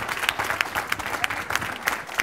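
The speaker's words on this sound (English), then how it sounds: "give yourselves a round of applause" A live audience claps steadily at a comedy show, a moderate wash of applause from a crowd with a few sharper individual claps standing out.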